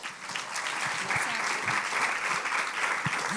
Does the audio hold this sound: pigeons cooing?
no